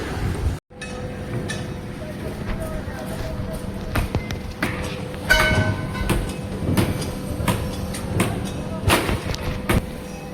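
A train passes near a railway station by Gaganpahad village on the Shamshabad road, rumbling loudly with repeated clickety-clack wheel knocks and metallic clanks throughout, with faint voices in the background.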